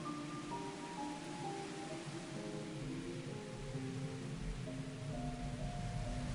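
Heavy rain and wind in a free Japanese horror game, a steady dense hiss of rainfall with a faint low rumble underneath and drifting tonal music, continuous and without speech.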